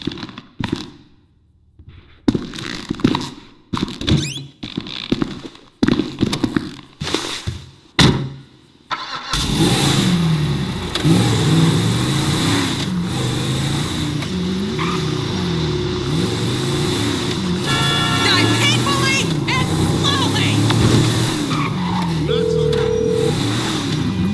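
Grand Theft Auto V car engine running steadily and loud for most of the stretch, after a choppy opening of short bursts and gaps, with scattered in-game noises layered over the drone.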